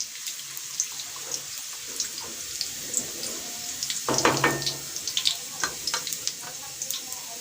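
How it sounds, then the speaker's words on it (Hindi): Garlic frying in a home kitchen pan for a potato and eggplant dish, a steady hiss and crackle with a louder sizzling surge partway through, joined by stirring and faint background voices. "लहसुन को हम अच्छी तरह से भून लेंगे।"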